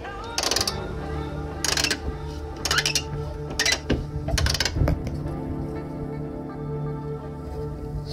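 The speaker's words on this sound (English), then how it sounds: "The captive nut that's welded to this back plate here is just spinning around." A bolt turns against a loose captive nut spinning on a Land Rover Discovery 2 heavy-duty rear bumper, giving five short bursts of metallic rattling and grinding, close and fairly quiet.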